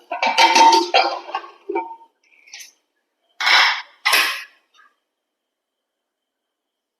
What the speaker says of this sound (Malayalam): നമുക്ക് കുക്കർ ഒന്ന് തുറന്നു നോക്കാം